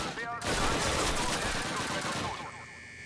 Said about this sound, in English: I'm reacting to the gunshots that are to my left and right so much